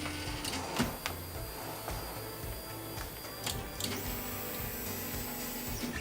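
A 3D printer auto-homing before its calibration, giving a steady mechanical whir with stepper-motor buzzing and a few faint clicks and ticks throughout, close by and with no voices.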